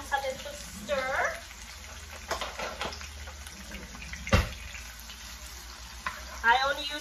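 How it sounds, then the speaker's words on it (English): Onion and sweet pepper fry in hot oil with a low steady sizzle and a few stirring scrapes, close by, while a voice talks over it intermittently. "I'm gonna let this fry for just about a minute to get them nice and soft and flavor the oil"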